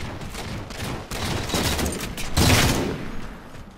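Battle rifle fire in Halo 4 multiplayer sounds as bursts of sharp shots, some separated by brief gaps and swelling louder toward the middle, mixed with harsh in-game battle noise.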